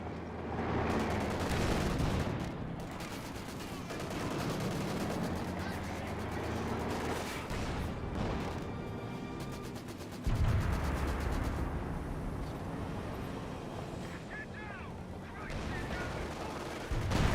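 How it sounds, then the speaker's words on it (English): A Panzer IV tank firing in the battle game Company of Heroes 2, amid a dense din of gunfire, machine-gun bursts and explosions, with sharp louder blasts standing out against the continuous combat noise. "Panzer IV firing away."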